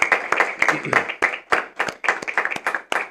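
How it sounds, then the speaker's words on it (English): A small audience claps for student entrepreneurs at a venture challenge event, a close run of distinct, uneven claps from a few people that pauses briefly and resumes. "Big round of applause for you guys"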